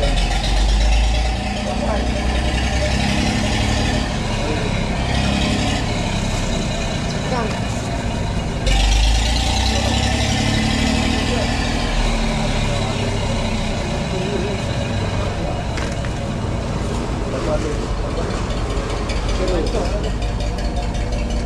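A fishing boat's engine idles steadily at sea on a crab and ray netting trip, a continuous low rumbling chug beneath ongoing conversation between people on board.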